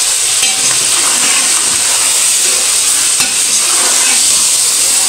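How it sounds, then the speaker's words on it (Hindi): Chicken liver fries loudly in a pan, a dense, close, continuous sizzling hiss with crackling splatter throughout and no talk. "जैसे ही मैंने कलेजी डाली ना, इसमें से छींटे निकलने शुरू हो गए।"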